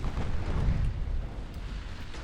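A torpedo explosion in the naval strategy game Ultimate Admiral Dreadnoughts, heard as a single heavy, rumbling boom that swells and then fades into a sustained low roar.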